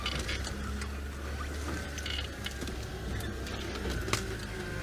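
Safari vehicle driving over bumpy bush terrain at Djuma, a steady loud engine drone with continuous rattling and jolting knocks from the rough track, no talk.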